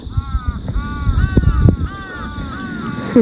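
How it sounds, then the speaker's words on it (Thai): Crows caw repeatedly from a short distance, a series of harsh, evenly spaced calls, with a couple of sharp knocks and some low background noise between them. "อีกา หรืออะไรไม่รู้ แต่ กากากาอยู่ตรงนู้น"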